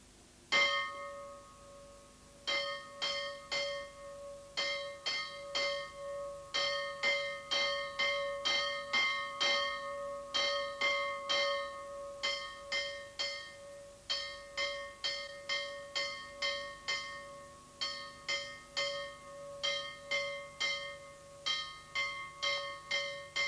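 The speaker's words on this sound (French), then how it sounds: "La cloche appelle au vêpres, l'espérinos." A monastery church bell rings for vespers at sunset, a steady run of loud metallic strikes with ringing tones, repeated in quick clusters throughout with no talking.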